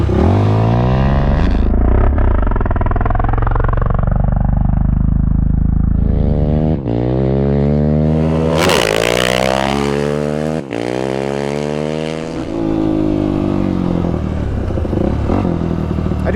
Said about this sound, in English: we are going to do the second gear dirt launch with the Obor Advents